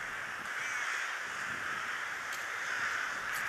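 A flock of rooks caws continuously in a steady, dense chorus of rough calls, with no single bird standing out and a few louder calls rising briefly above the mass.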